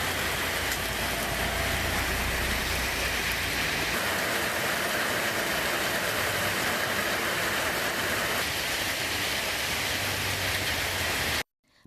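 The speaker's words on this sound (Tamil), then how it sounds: "இரண்டாவது நாளாக கனமழை கொட்டி தீர்த்தது" Heavy rain pouring down on a second straight day of downpours in Pudukkottai, Tamil Nadu: a dense, unbroken hiss of falling water, loud and steady throughout, cutting off abruptly at the very end.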